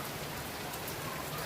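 Steady rain pours down outdoors during a monsoon shower, a dense, even hiss of drops hitting surfaces, close and continuous with no pauses.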